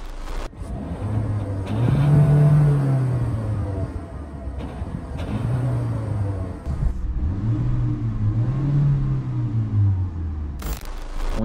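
A Peugeot 508 PSE SW with twin exhaust outlets runs up through the revs, its engine and exhaust rising and falling in several drawn-out pulls, loud and close with no talk.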